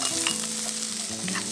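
Sliced ham stir-fries in a home kitchen pan with a close, steady sizzle and the scrape of a utensil turning it. There is no talking.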